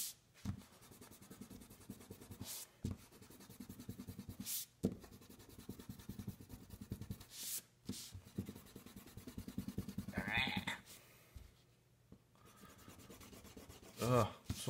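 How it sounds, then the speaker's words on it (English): Pencil lines being erased from a dried drawing, a rhythmic scratchy rubbing of eraser on paper in repeated strokes with short pauses between them. "And now to erase the pencil."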